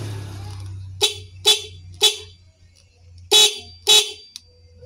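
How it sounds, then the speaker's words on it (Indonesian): A motorcycle horn being tested, five short, sharp beeps close by, three evenly spaced, then a pause before two more, with a low idle hum underneath. "Kita coba tes klakson."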